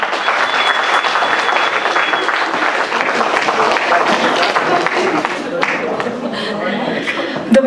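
Loud audience applause fills a concert hall as a performer is welcomed to the stage, steady dense clapping with some chuckles mixed in, tapering slightly near the end.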